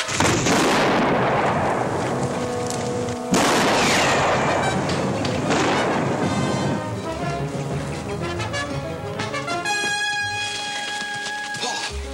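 Heavy, echoing gunshots ring out in a Western frontier setting, two loud cracks in succession with long rolling reverberation, followed by a dense background of music and ambient noise.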